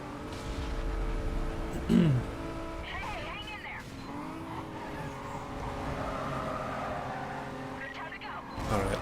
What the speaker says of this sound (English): That Corvette is wicked fast.